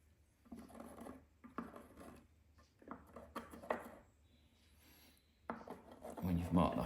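A pencil marks out hole positions on the plywood lid of a wooden tool chest, giving faint, short scratchy strokes in intermittent bursts, close by with quiet pauses between.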